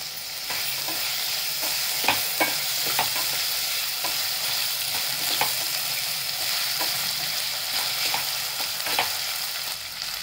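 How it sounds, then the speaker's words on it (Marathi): Asafoetida and tomatoes sautéing in hot oil for veg pulav, a steady close sizzle with a spatula stirring and scraping the pan now and then. "हे चांगले परतले की याच्यामध्ये टोमॅटो टाकून घेते"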